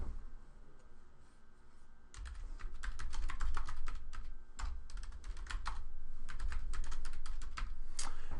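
Rapid clicking of a computer keyboard as a blog post title is typed, starting quietly and then running in close, steady bursts of keystrokes.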